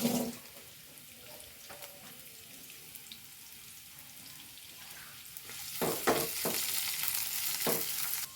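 Sliced onions frying in oil in a pan for chicken milk chapati, a low crackling sizzle that swells louder toward the end with a few stirring knocks, close and with no talking.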